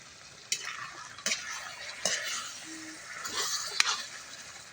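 Ginataang papaya, green papaya simmering in coconut milk, being stirred in a pot: a few close scraping strokes of a utensil against the pot, spaced irregularly over a soft bubbling background.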